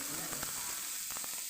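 Onions dropped into hot oil in a pan give off a steady, close sizzle and hiss that fills the whole moment, with a few faint clinks over it.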